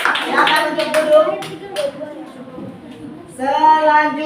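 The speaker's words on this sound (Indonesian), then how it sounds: "Kasih tepuk tangan yang meriah." Clapping from a classroom after a group presentation, a burst of hand claps near the start that fades out, with voices talking over it and again near the end.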